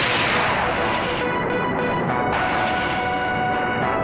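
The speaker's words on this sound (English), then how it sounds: "There's a lot of explosion." Explosions rumble through the battle on Dollet beach in Final Fantasy VIII, a dense continuous wash of blasts and crashes with sharp bursts popping above a loud roaring bed.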